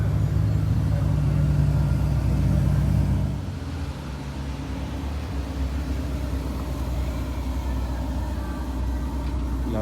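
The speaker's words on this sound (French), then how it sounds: "La Portofino fait son entrée avec les photographes qui vont faire une petite photo de toutes les voitures en convoi en fait sur le circuit." A Ferrari Portofino in a convoy of cars entering the Spa-Francorchamps circuit for a parade, with a loud engine rumble that drops abruptly partway through and then settles into a steadier, quieter drone.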